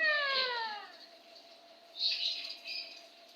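A sick cat meows twice, a high drawn-out cry that falls in pitch, then a shorter, rougher call a moment later.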